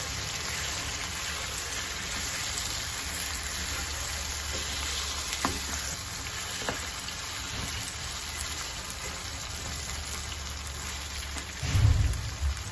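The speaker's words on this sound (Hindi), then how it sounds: "इसमें डालेंगे चिकन। चिकन मैंने लिया है 1 किलो, इनको अच्छे से मिक्स कर लेंगे।" A kilo of chicken cooking in a pot for pulao sizzles steadily and loudly throughout, with occasional stirring scrapes and a heavier clatter near the end, no voices.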